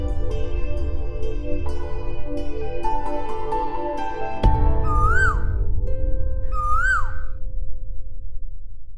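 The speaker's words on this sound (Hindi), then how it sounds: "कोयल वापस आ गई।" An Asian koel sings two clear, rising-and-falling whistled calls a couple of seconds apart, heard after a stretch of soft background music in a television drama.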